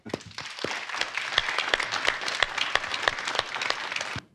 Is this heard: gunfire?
no